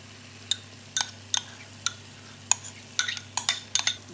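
Spoon stirring plain yogurt into lamb mince in a cooking pot, a quiet series of sharp scraping clinks at an uneven rhythm over a soft low hum, with no talking.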